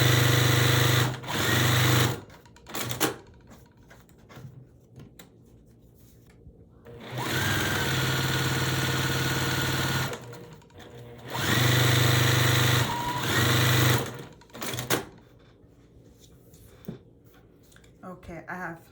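A sewing machine stitches quilt pieces for a barn star block in several bursts of steady whirring, each a few seconds long, with quiet pauses and talking between runs.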